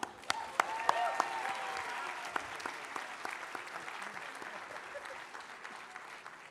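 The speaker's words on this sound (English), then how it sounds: "Let's give him one more round of applause" A graduation ceremony audience breaks into sustained applause, dense and even clapping filling a large hall for several seconds, with a few sharper individual claps near the start.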